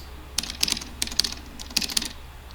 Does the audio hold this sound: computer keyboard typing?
yes